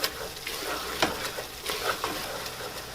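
A flour roux stirred and cooked in a pot for crab and corn chowder crackles with a soft, steady sizzle, broken by a few light scrapes of the stirring utensil, close and moderately quiet.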